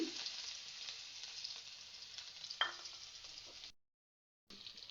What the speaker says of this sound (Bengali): তরকারিটা রান্না করব পেঁয়াজ কুচি দিয়ে দিলাম